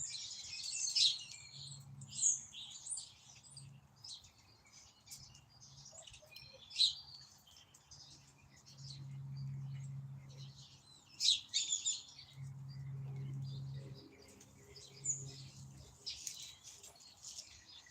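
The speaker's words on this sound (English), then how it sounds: "See all the birds behind me? They're starting to come in and eat." Wild birds chirp and tweet in bursts as they come in to feed, bright high calls repeating every few seconds at a little distance, with a low hum underneath and no talk.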